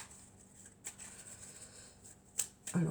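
Oracle cards shuffled for an angel-message reading, soft riffling with a few sharper card flicks and snaps, close and fairly quiet, with no talking.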